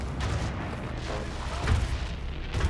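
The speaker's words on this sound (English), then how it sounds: "and activating those explosions" Explosions in the shooter video game Wolfenstein: Youngblood, a dense, continuous rumble of booms and blasts with sharper bursts rising out of the din, loud and close.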